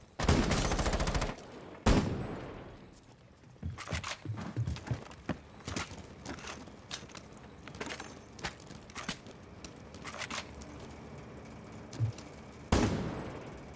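Rainbow Six Siege gunfire, with bursts of rapid shots followed by scattered single cracks and short volleys, loud and close, with quieter gaps of game ambience between them.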